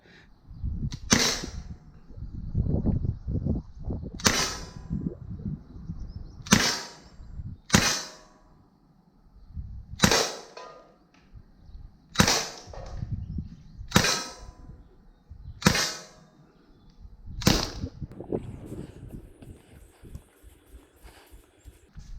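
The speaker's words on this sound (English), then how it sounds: "So guys, now we'll go outside and we'll try to fire it." Gamo C15 blowback CO2 pistol fired outdoors, eight sharp cracks spaced a couple of seconds apart, each a loud snapping report with a slide clack, over low background rumble.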